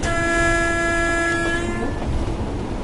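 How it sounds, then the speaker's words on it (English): A steady AWS warning horn in the Train Sim World 2020 train simulator game blares for nearly two seconds over a low rumbling engine drone, then cuts off, leaving the rumble. "The AWS is going to sound and we have to go down."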